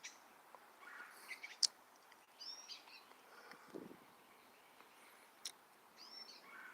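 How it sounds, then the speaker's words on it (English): Birds chirping outdoors near vines and honeysuckle-covered trees, giving faint, scattered tweets and short calls at a distance over a quiet background. "You can hear the birds chirping."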